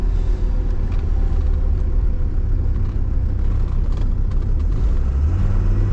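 A 1979 Mercedes 300 diesel coupe drives along while the driver downshifts into a tight right turn, giving a steady, loud low engine drone and road rumble with little change and no talking.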